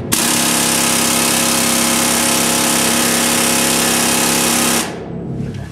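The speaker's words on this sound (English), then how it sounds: "now we are going to demonstrate the drilling machine, and it makes such a very, very loud noise" A drilling machine inside the Gold Reef City gold mine in South Africa runs at full power, a very loud, steady, rattling roar that holds for several seconds and then cuts off abruptly.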